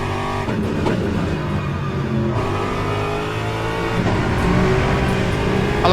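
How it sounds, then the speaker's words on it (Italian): An Aston Martin LMGT3 race car in a racing game holds a steady, loud engine drone with shifting pitch as it slides through a corner, rich harmonics sustained throughout and no other sounds. "ABS dolcissimo di questa Aston Martin. Ecco lo scivolamento."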